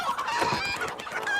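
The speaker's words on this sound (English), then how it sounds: "Shiver me axles! There be chickens!" Chickens cluck and squawk in a busy, continuous flurry, close and fairly loud, with several birds overlapping.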